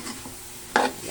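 Sotanghon guisado with oyster sauce being stirred in a pan, giving a soft scraping swish under a faint sizzle, with one louder, brief stir burst near the end.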